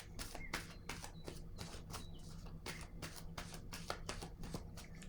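Tarot cards are shuffled by hand in quick, repeated riffling bursts, close and fairly soft, with irregular gaps between the papery flicks and no speech.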